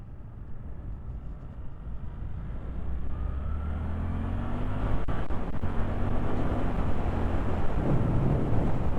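A 2024 Suzuki GSX-8R motorcycle pulls away up a lane, its engine note building steadily louder as it accelerates through rising revs, with wind noise underneath and no talk.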